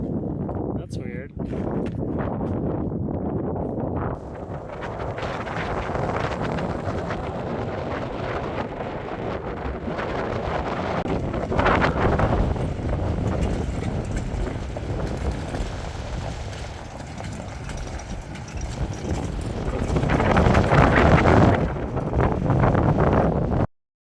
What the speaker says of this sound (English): the wind was just too ferocious